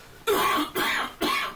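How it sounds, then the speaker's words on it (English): Three harsh coughs come in quick succession, loud and close, each a sharp burst with a short gap between them, forming a brief coughing fit. "Terrible coughing fits."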